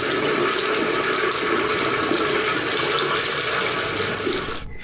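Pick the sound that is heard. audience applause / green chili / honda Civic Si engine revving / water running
water running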